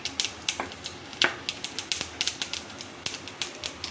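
Sharp, irregular crackling pops burst in quick succession as tempering seeds splutter in hot oil, close and crisp with no talking.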